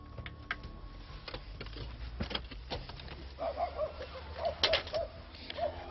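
A pigeon stranded on a rooftop during a fire crew rescue with a crawler gives soft repeated coos in the second half, among clicks and background noise.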